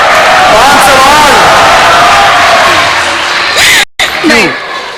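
A studio audience on a Ramadan television game show claps and cheers, a loud continuous crowd roar filling the scene, with a host's voice talking over it and a brief cut near the end.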